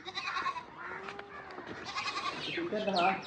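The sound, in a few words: goats bleating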